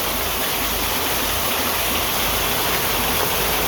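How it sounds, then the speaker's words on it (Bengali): Heavy downpour roars steadily in rural Bangladesh, a dense unbroken wash of rain noise with no breaks or voices. "বৃষ্টি সব জায়গায়"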